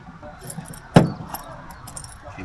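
A set of car keys gives a single sharp metallic jangle near the one-second mark, close and fairly loud against a quiet room background.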